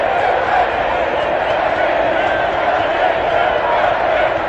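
Dense stadium crowd noise at the World Cup final, a steady loud roar of many voices sustained throughout, consistent with booing directed at Donald Trump in the stands.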